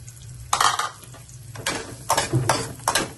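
A metal ladle clanks and scrapes against a pan as garlic sizzles for a garlic butter crab, in several loud bursts of clatter separated by short pauses.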